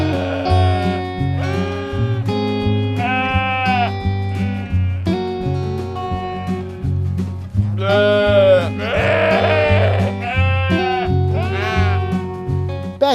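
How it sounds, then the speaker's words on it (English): Sheep bleat on a farm in a few drawn-out, wavering calls that cluster mid-clip over a steady musical backing. "and you'll find sheep."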